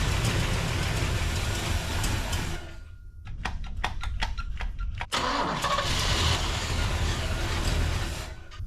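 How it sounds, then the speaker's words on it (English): A big block Chevy cranks and catches with a few stumbling bursts, then settles into a rough, steady idle, fairly close and moderately loud. "The engine is super quiet."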